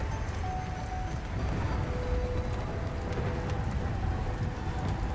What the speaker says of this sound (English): It's hailing and thundering and lightning